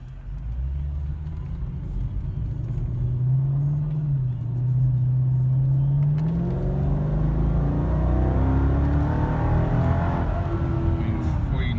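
Supercharged Mercedes E55 AMG pulling through a moderately hard acceleration, its engine note rising steadily in pitch as it climbs through the gears, loud and close from inside the cabin with a constant road rumble beneath.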